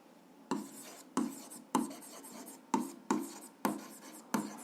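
Numbers being written by hand for a seventh-grade algebra exercise, a series of about eight short scratchy pen strokes in a fairly even rhythm, close and quiet with no talk.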